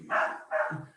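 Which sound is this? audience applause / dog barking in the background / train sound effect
dog barking in the background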